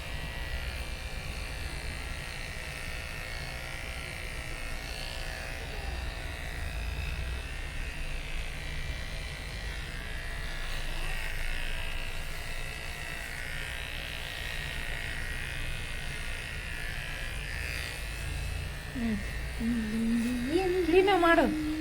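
An electric trimmer shaving hair during a home haircut, a steady low buzz that hums on without a break under continuous conversational talk, rising slightly near the end.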